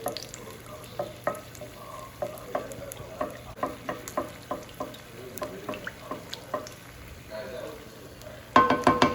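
A chile relleno frying in oil in a pan, with a steady sizzle under regular scraping strokes as the oil is pushed aside, about two per second, close and clear, ending in a louder burst of clatter.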